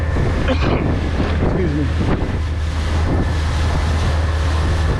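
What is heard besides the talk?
boat bumping over waves while running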